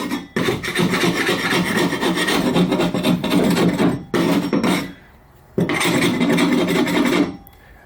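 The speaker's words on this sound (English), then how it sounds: "simply get a scraper and just clean off all these edges" A scraper rasping over the broken edges of a hole in drywall, clearing away loose bits in three sustained, loud bursts separated by short pauses.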